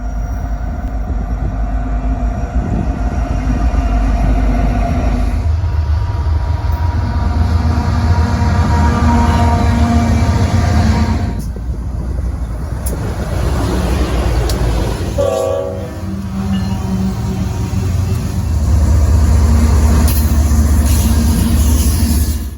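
Loud train rumbling past nearby in Fort Madison, Iowa, with steady wheel and car noise, its horn blaring in several long blasts throughout.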